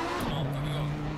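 Racing-car engine at Silverstone in the Assetto Corsa Competizione Blancpain Endurance Cup race, a steady loud drone whose pitch dips as a car goes by, with continuous broadband road and wind noise throughout.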